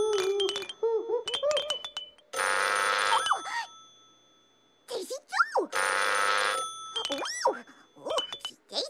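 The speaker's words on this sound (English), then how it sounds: "Upsy Daisy, the Trubliphone is ringing." An In the Night Garden Trubliphone toy phone trills in bursts of bright electronic ringing, alternating with playful boing-like tones and cartoonish voices speaking between the rings.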